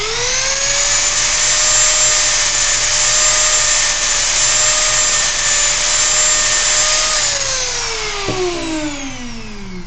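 A Dremel rotary tool spun up to 35,000 RPM cuts into plastic, a loud, steady high-pitched whine with bright harmonics that holds for about seven seconds, then sags and drops in pitch as the motor slows near the end.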